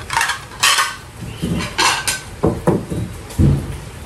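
Ceramic plates are set out one after another, giving a series of clinking, knocking contacts of moderate loudness, close by, with no talk.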